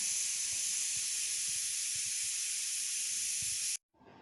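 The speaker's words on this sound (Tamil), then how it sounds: "இப்போ ஆயிலில் ஃப்ரை பண்ணியாச்சுங்க." Small hand-patted tikki patties frying in hot oil give a steady, loud sizzling hiss that runs unbroken for several seconds before cutting off abruptly, leaving quieter kitchen background.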